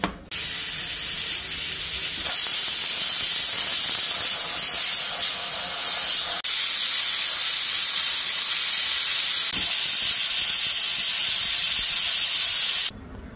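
Loud, continuous high-pitched steam hiss from a pressure cooker whistle while cooking dal makhani, running unbroken for several seconds before cutting off abruptly.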